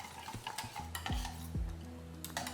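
A whisk beats a buttermilk and curd mixture in a bowl with quick scraping strokes and a few sharp clinks against the side, close and moderately loud, over a low background hum.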